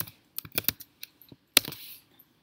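Short bursts of keystrokes on a computer keyboard as a folder name is typed: uneven clusters of crisp taps, close and fairly quiet, with a final louder flurry before silence.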